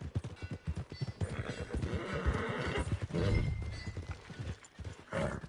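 A horse in Red Dead Redemption 2 whinnies and snorts close by amid the steady clip-clop of hooves, with a voice speaking briefly over the game's ambient background.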